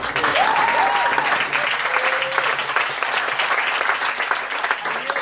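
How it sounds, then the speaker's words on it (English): Crowd applauding performers at a mosque community event, loud sustained clapping with a few whoops rising over the dense wash, continuing evenly to the end. "So a round of applause for everyone who just performed"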